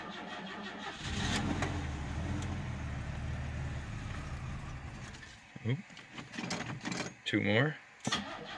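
A carbureted 2.8-litre 1986 Chevrolet Celebrity cranks and fires on a cold start, its low engine rumble steady and close for several seconds before fading into brief speech and bumps.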